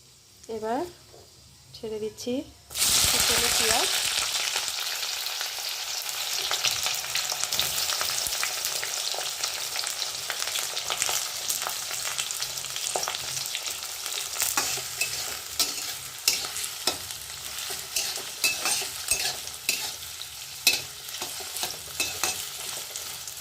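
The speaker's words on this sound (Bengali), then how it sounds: "তেল গরম হয়ে গেছে এর মধ্যে ফোড়নগুলো ছেড়ে দিলাম শুকনো লঙ্কা তেজপাতা আর গোটা গরম মশলা" Dried red chillies, bay leaves and whole garam masala hit hot mustard oil in a kadai, erupting into loud continuous sizzling and spluttering after a brief quiet start, with crackling pops throughout.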